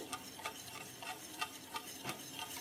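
Poha soaking in coconut milk is stirred in a bowl, giving soft, evenly spaced wet scrapes and swishes, faint and close, with no talking.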